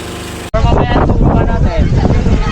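A motorboat carries passengers toward a beach near Dingalan, its engine roaring loudly and continuously under heavy wind buffeting after an abrupt start.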